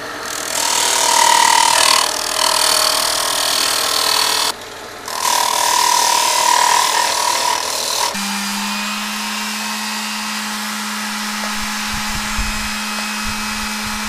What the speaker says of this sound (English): Grinding off the nails.